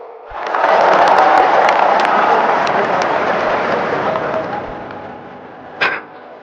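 Audience applause at a speech event, a sustained burst of clapping that swells quickly, holds for several seconds and then fades, with a short sharp knock near the end.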